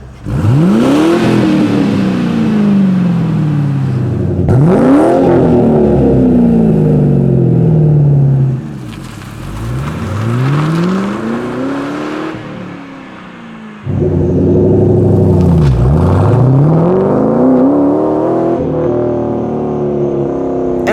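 A car engine with a loud performance exhaust revs repeatedly, each burst rising and falling, with a brief quieter idle between rev sequences.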